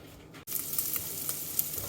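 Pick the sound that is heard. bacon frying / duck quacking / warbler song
bacon frying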